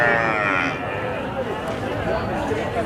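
Sheep bleat at a busy livestock market amid crowd noise and other farm animals, with people talking throughout.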